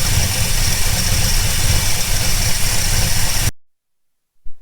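Ford Falcon car engine running steadily, loud and close with a constant rumbling drone, which cuts off abruptly near the end.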